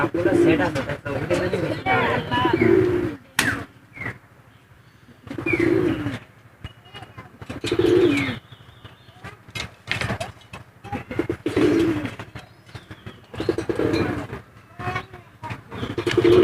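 Domestic and foreign pigeon breeds coo in repeated soft throaty bursts every couple of seconds, close by, with chirps and light mechanical clatter. Someone talks at length over and between the calls.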